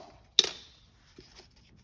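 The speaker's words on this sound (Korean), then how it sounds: "테이프를 뜯어서" A single quick rip of adhesive tape pulled off a roll, loud and close, fading fast, followed by a faint soft rustle.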